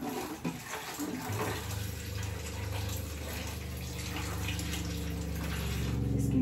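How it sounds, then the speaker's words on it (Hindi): Water poured from a tap into a cream jar in a home kitchen, a steady gushing fill whose pitch rises as the jar fills, with a faint background hum. "इसको पानी डालना है।"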